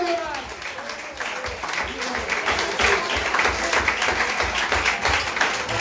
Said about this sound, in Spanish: si ese aplauso para Él, déselo en esta mañana